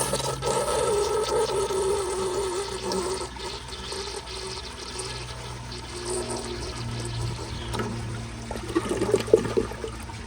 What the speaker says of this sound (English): And here is another flush.